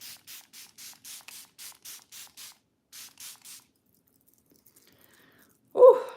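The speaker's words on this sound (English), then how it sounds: "So this is the setting spray." Makeup setting spray from a pump bottle: about a dozen short, crisp hissing spritzes in a quick even rhythm, then a pause and two more, followed by near silence and a brief soft sound at the end.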